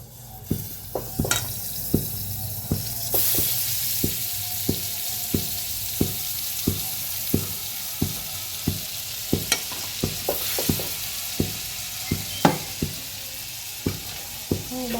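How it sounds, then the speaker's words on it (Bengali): Boiled food stirred in butter in a wok: a spatula scrapes and taps the pan in a steady, regular series of strokes over a continuous close sizzle, with no talking. "তো এবার কড়াইতে বাটার দিয়ে দেবো।"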